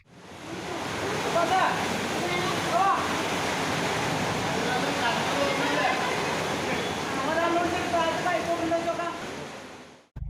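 Steady, heavy rush of floodwater after heavy rain flowing through Perinthalmanna town streets and into shops, loud and continuous, with a voice talking over it throughout.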